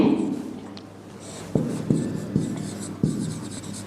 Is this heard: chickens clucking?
no